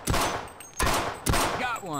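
Gunfire in Half-Life: three loud, closely spaced shots with ringing tails, each about half a second apart, nearby and alone.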